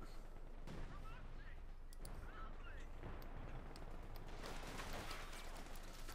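Artillery fire in a Company of Heroes 2 match, a few sharp booming shots spaced across the clip over constant battlefield ambience, with a commentator talking.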